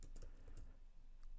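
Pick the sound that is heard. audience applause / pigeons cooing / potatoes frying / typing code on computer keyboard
typing code on computer keyboard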